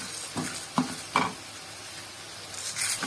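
Red chillies fry in oil with urad dal and chana dal, a soft steady sizzle broken by three or four sharp scrapes of a stirring spoon against the pan.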